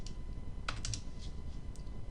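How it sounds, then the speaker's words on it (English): Quick light clicks of a computer keyboard as a time is typed in, a short close burst of a few keystrokes over a quiet background. "We want to type in a scheduled pickup time."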